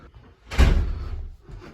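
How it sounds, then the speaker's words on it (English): A front door at a terrace house in Hunstanton swings shut with one solid thud and a short rattle of the latch, heard close up in a quiet hallway. "you've got to make sure you lock the door behind you."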